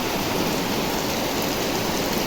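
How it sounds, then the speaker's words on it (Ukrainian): Heavy, dense rain falls steadily outside a house, a continuous broadband hiss like a downpour drumming on surfaces, loud and unbroken with no voices. "Ой, який дощик. Густий-густий."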